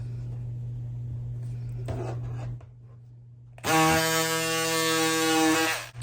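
Vloxo electric scissors cutting four layers of fabric: a low motor hum, a short pause, then a loud, close, buzzing motor drone with a harsh grinding edge that holds steadily to the end.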